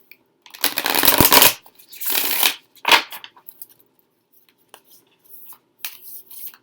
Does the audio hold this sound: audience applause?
no